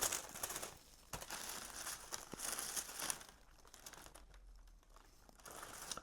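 A paper insert from a Jordan Union shoe box crinkles and rustles close by, quiet irregular crumpling in bursts with short pauses and no talking.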